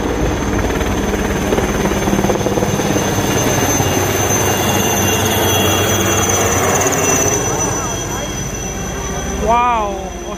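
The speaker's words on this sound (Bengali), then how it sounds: "হেলিকপ্টার থেকে ফুল ছোড়া হচ্ছে" Helicopter flying overhead during the Republic Day parade on Red Road, Kolkata, showering flowers, a steady loud rotor drone filling the whole stretch, with crowd noise and voices beneath and a brief whistle-like call near the end.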